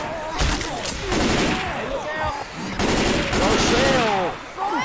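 Gunfire in a zombie-shooting video game, with rapid, dense shots and chaotic noise running nearly the whole time beneath excited, overlapping voices.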